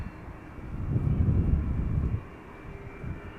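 An Airbus A300-600 airliner, in service since 1993, at Schiphol Airport: a distant, broad engine rumble swells through the middle and then fades back to a steady outdoor hum, with no talking.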